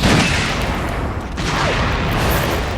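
Steady, dense gunfire from Dante's fire gun in the mobile action game Devil May Cry: Peak of Combat, a continuous loud roaring blast of rapid shots filling the whole stretch with no talk.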